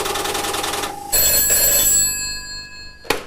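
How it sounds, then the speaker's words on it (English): Old GPO telephone's mechanical bell rattling loudly in a continuous metallic trill, stopping abruptly, then a single sharp clunk near the end. "This is the phone we all know and love."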